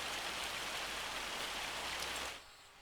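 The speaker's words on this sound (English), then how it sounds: "Yeah, this rain." Rain in Farming Simulator 25, a steady, moderate hiss of falling rain that cuts off abruptly near the end, leaving a quieter background.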